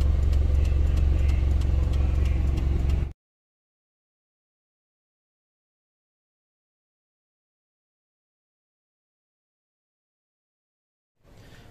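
A car's mid-range engine runs loud and close for about three seconds as it pulls in through a home gate, then cuts to silence before a faint engine sound returns at the end.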